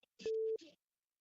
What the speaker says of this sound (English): I love my new ringtone.